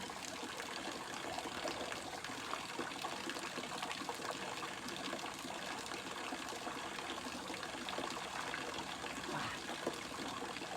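Stream water flows through a forest on a hiking trail, a steady trickling and gurgling that runs on at low volume with no voices.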